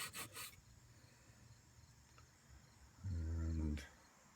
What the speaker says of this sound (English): doing most of it with a little piece of this some sort of a sanding web thing